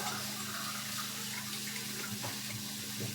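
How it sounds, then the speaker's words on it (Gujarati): Half a glass of water pours in a steady stream into a pot of cooking sev usal, a soft continuous splash over a low background hum. "આપણે આમાં છે તે અડધો ગ્લાસ પાણી એડ કરી લેશું"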